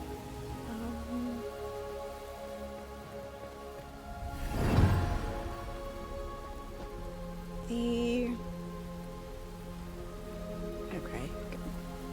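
Steady rain falls in the video game Enshrouded, a constant even patter across the whole stretch with a brief whooshing swell midway, while background game tones and faint voices sit beneath it.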